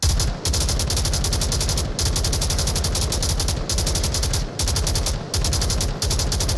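Rapid automatic gunfire from several weapons in the VR shooter game Onward, during a competitive match, rattles on almost without pause, with only brief gaps between loud bursts.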